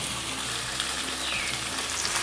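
Fried chicken tumbles into an onion masala for chicken kondattam, setting off a loud, steady sizzle and frying hiss throughout, with faint stirring movement underneath.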